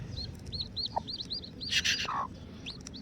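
Rapid high thin cheeps from a newly hatching chick repeat in quick succession, fairly faint, with a brief louder rustle midway and a low background hum.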